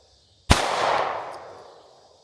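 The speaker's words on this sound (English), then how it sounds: "I'm shooting at my steel plates here." A single sharp pistol shot from an S&W M&P Shield Plus fired at steel target plates, a loud crack followed by a ringing, decaying tail over about a second and a half with no talk.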